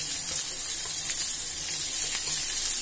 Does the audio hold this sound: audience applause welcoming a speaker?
no